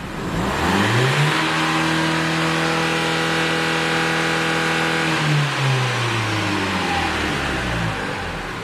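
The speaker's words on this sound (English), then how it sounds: "And as you can see, engine revs freely now." A 2016 Renault Kadjar 1.5 dCi diesel engine, repaired after failing to rev following a service, is revved hard, its loud droning note climbing, holding high for several seconds, then falling back toward idle.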